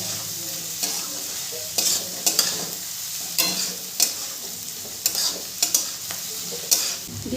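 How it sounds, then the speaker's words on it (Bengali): Vegetables for chire pulao being stirred in a hot pan, a steady sizzle broken by repeated sharp scrapes and clatters of the spoon at irregular intervals, close and fairly loud. "ভালো করে নেড়ে নেব"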